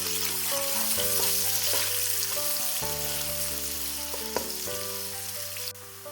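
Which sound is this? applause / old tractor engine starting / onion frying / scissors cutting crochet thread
onion frying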